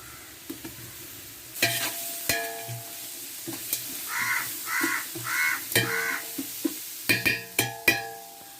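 Onions sauté in a pan for chicken biryani with a low sizzle, broken by sharp utensil clatters and stirring scrapes, while crows caw repeatedly in the background.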